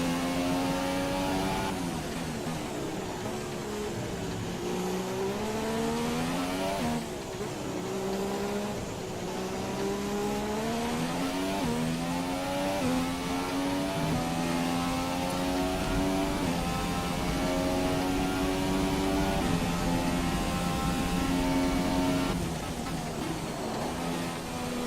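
F1 car engine at Silverstone in F1 2017, droning loudly throughout as it climbs through the gears, with repeated drops and rises in pitch at shifts and braking zones.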